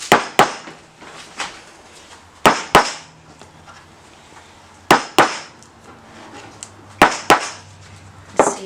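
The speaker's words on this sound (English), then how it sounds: "we're going to be doing 4 taps around the container with my hammer" A hammer taps around the stuck lid of a paint jar, giving sharp, close knocks in pairs and small clusters with short gaps between them, loud against a quiet background.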